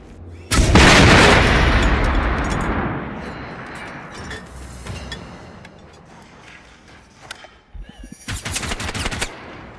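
Loud automatic gunfire while shooting an enemy in the video game Generation Zero: a long sustained burst of rapid shots with booming echo, then a quieter pause and a second short burst near the end.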